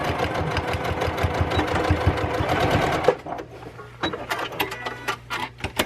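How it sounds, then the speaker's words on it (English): A sewing machine production-sewing cloth face masks runs in a fast, dense rattling burst for about three seconds, then stops, leaving scattered clicks and light handling noises. "She's going to production sew these pieces, and watch what she's doing."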